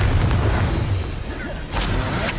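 Confringo spell blasts in the Hogwarts Legacy video game, a few muffled booms and bursts amid busy combat noise, with a sharp crackling impact near the end.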